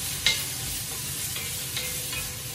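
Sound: andouille sausage sizzling and stirred in a skillet

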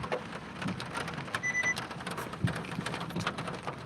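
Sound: rain dripping

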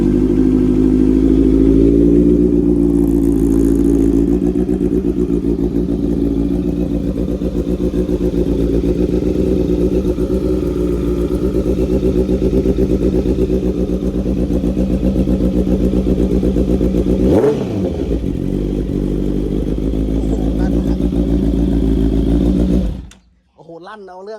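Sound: Honda CB650F motorcycle engine starting and revving

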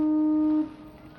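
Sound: boat horn sounding in Norwegian National Day boat parade

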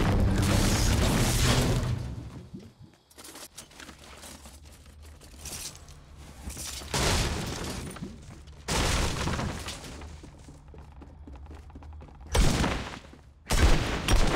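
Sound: gunfire in Fortnite video game

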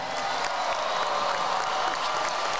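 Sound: applause from the crowd

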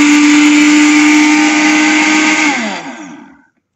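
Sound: Kenwood food processor grinder running

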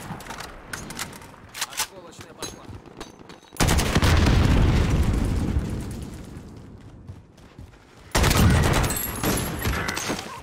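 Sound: grenade explosion in video game Call of Duty: Warzone

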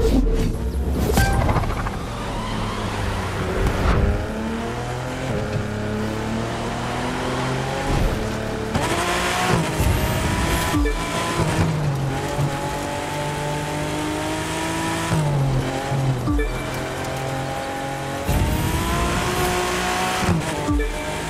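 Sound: race cars accelerating in video game The Crew 2

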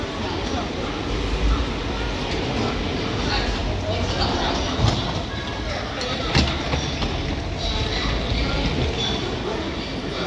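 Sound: maglev train arriving at platform

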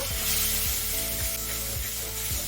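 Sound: water added to frying spice masala, sizzling

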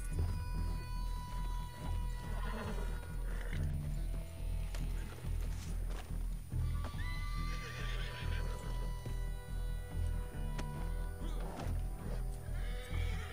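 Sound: horse hooves and whinnying in Red Dead Redemption 2 video game

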